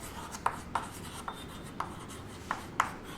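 A marker writing on a board during a math lesson, giving a series of six short, crisp taps and strokes spaced irregularly over a quiet, faintly hissing room, with no voices.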